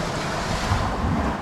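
Ocean surf and gusting wind during a heavy rainstorm on the coast at Cebu, a steady dense roar of breaking waves and wind buffeting the microphone, close and continuous with no voices.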